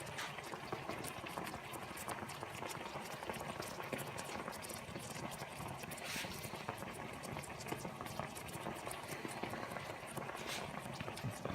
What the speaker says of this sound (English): Still bubbling.